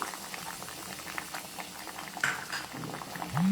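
Spice paste goes into hot oil, setting off a soft bubbling, spattering sizzle with light clicks, close and fairly quiet, no talk.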